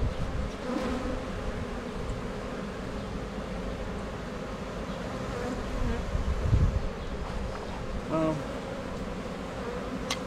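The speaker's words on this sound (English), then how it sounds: "I cracked the lid so the bees can get in and out and make their scent known" Honeybee swarm buzzing around a hive with the lid cracked open, a dense continuous drone of many bees close by, individual bees passing louder now and then.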